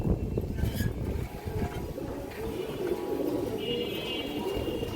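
A restless silver khaki female pigeon at a pigeon seller's coos in low, soft bursts. A steady rushing background noise runs beneath the calls.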